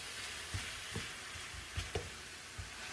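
Ground beef sizzles quietly in a pan as a spatula stirs and scrapes it, with a soft steady hiss broken by a few light scraping knocks.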